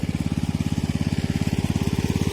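A borehole water pump driven by a small engine runs steadily in a rapid, even thrum. It is close and loud, with a constant pulsing beat and no voices.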